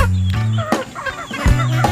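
Pet hens in a coop, a mother hen kept with her mate to lay eggs, clucking up close in short repeated bursts, with brief rooster-like calls at the start and end.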